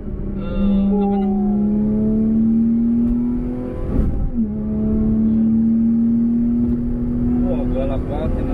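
A Porsche Cayman 987 Mark II engine revs up under hard acceleration, its tone climbing steadily, dropping briefly at a gear change, then rising again, loud and close.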